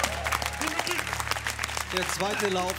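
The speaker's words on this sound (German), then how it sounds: "Applaus." Applause from the crowd at a German tag championship run, a steady clapping wash underneath a commentator who keeps talking over it throughout.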